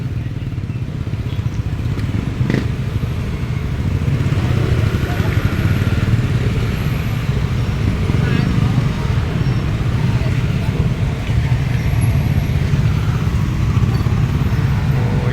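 Heavy road traffic at a busy town crossing in Rizal, with motorcycles and cars idling and revving in a constant low rumble, engines passing close by, while people talk over the din.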